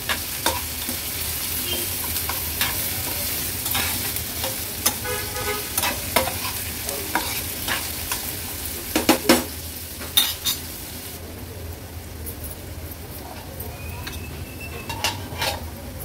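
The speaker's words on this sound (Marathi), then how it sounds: "गॅसची फ्लेम लो करून कांदा व्यवस्थित शिजवून घ्यायचा आपल्याला।" Onion with ginger-garlic paste fries over a low flame, a steady soft sizzle broken by spoon scrapes and clinks against the pan as it is stirred, with no talking.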